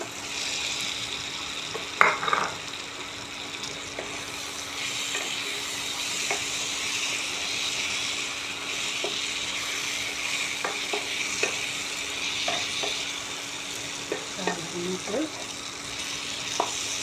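Fried potatoes stirred in a pan as the oil separates, a continuous close sizzle broken by scraping clinks of a spoon against the pan, with faint background sounds and a soft low hum.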